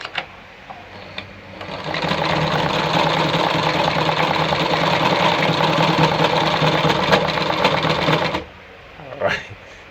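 A Jones Brother model 687 sewing machine stitches a buttonhole in one continuous, loud, rapid mechanical whir lasting about seven seconds, bracketed by a few clicks before it starts and after it stops.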